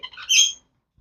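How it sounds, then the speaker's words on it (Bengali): A sun conure chick gives a short, sharp squawk, close and loud, with a few chirpy notes just before it, then quiet. "এটা হচ্ছে সান কনুর পাখির বাচ্চা"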